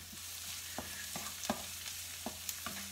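Noodles stir-fry in a pan for pad mee som tam, a steady close sizzle broken by regular scraping strokes of a utensil against the pan.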